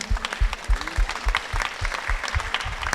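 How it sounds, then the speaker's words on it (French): An audience at an awards ceremony applauds the winners, clapping steadily and densely for a few seconds. Heavy low thumps pulse through the crowd noise. "On l'applaudit."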